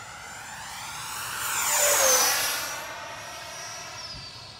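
A Freewing 90mm F-22 RC jet's electric ducted fan roars through a high-speed dive, its whine rising and sweeping down in pitch as it passes close by, then fading into the distance.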